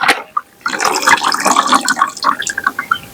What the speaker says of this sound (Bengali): এই দেখুন, এইভাবে কিন্তু চটকে চটকে ধুয়ে নিচ্ছি।